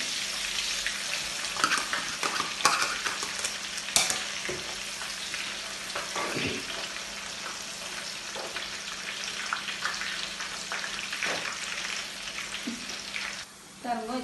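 Steady sizzling and crackling of mixture snack frying in hot oil, with occasional clinks and stirring sounds, continuous throughout.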